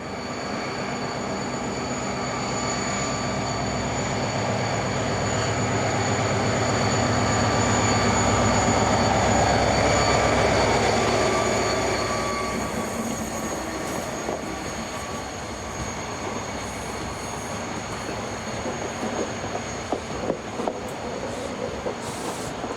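Renfe class 333 diesel locomotive hauling a Talgo passenger train, arriving as a loud engine drone and rumble that swells past at close range, then fades into rattling wheels and clicking rail joints.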